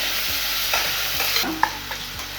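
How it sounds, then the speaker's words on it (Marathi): Finely chopped onion sautéing with cumin and asafoetida for khichdi, a bright hiss of hot oil under a few soft spatula scrapes and one sharp knock, with no talking. "आपण टाकतोय जिरे हिंग कांदा बारीक चिरून घेतलेला आहे छान परतून जायचा कांदा"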